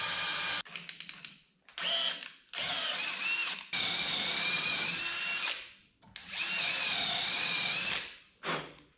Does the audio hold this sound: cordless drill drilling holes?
yes